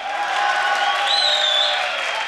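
A studio audience at The Voice of Afghanistan results show breaks into steady, dense applause for the singer's teacher, with crowd cheering and a whistle-like tone riding over it, loud and sustained.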